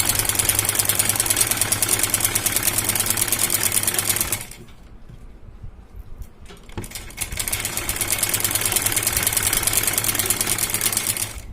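A sewing machine stitches a fabric strip onto a sleeve in a loud, continuous rapid whir, pausing briefly midway with quieter handling sounds before the steady stitching resumes, with no talk.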